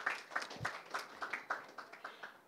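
Applause for the speakers at a session on inclusion and accessibility, sparse and rhythmic, with fairly evenly spaced claps about four per second, close and moderately quiet, as if from only a few people.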